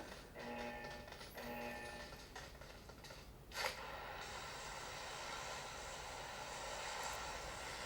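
Steady droning airplane engine inside a mobile battle-royale style game played on a Xiaomi Redmi 9A phone, a continuous mid-level hum with a brief whooshing burst partway through.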